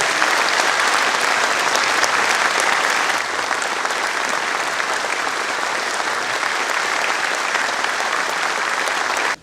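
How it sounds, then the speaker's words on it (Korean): A large audience at the Gwangju mayor's farewell ceremony gives loud, dense, sustained applause that continues evenly throughout, then stops abruptly. "큰 박수 보내주시기 바랍니다"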